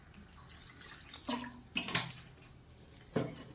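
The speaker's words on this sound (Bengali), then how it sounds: "এবার একটু জল দেব।" Water is poured into a pan of broccoli and soybeans while cooking, with a few faint splashes and trickles at close range over quiet background noise.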